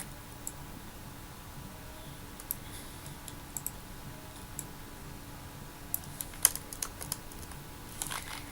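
Light, irregular clicks of computer keys being typed while writing JavaScript code, scattered taps over a low steady room hum, no voice.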